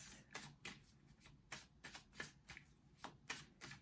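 Tarot cards are shuffled and drawn by hand, a quiet series of quick riffling flutters and soft slaps in an irregular rhythm, close up with no talking.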